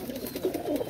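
Pet pigeons cooing, including a red-eyed female, with soft low throaty coos repeating close by throughout a short moment, no talk over them.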